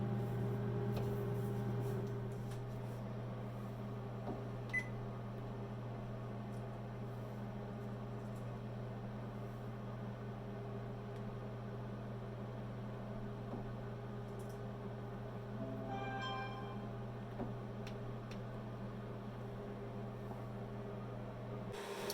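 A kitchen oven timer goes off while a buttermilk pound cake bakes, giving a quick burst of electronic beeps partway through, set against a steady low appliance hum in a quiet room.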